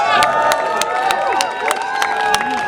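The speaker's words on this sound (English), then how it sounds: "That's sort of applause and boos at the same time" Mixed applause and boos rise from a crowd at a protest rally, a dense, continuous roar of clapping and jeering with scattered sharp claps and voices over it throughout.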